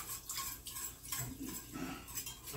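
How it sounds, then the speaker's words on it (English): A utensil stirs chicken and turkey stock into a pie filling, giving soft rhythmic scraping and light clinks against the pot, quiet and close with no talking. "just stir it in, stir it in, stir it in"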